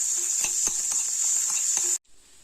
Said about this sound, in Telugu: ఆయిల్ వేడెక్కిన తర్వాత సన్నగా తరిగినటువంటి ఉల్లిపాయ ముక్కల్ని మంచిగా ఫ్రై చేసుకోవాలి